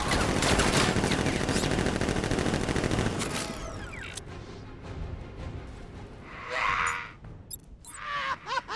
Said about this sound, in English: Gun! Open fire! Shoot everything!